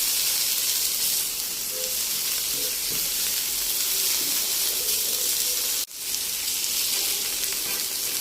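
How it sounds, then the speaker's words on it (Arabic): Liver and gizzards sizzle and fry in a pan while being stirred for a stuffed pigeon dish, a dense, steady hiss with a brief clatter near the end. "هنا هبتدي انزل عليها بالكبد والقوانص، وافضل اقلب"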